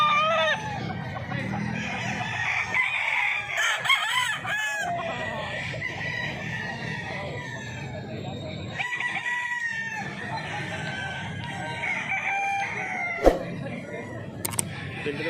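Many chickens and roosters, a flock of gamefowl, cluck steadily and crow repeatedly nearby, with overlapping calls throughout and people talking underneath.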